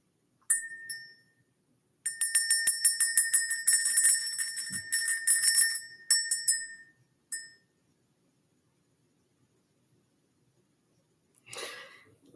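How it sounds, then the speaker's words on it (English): A small ritual bell rung by hand indoors, with bright metallic ringing in a single strike, then a long run of rapid repeated strikes, a few more rings and a final one, separated by near silence. "Let's ring the bell."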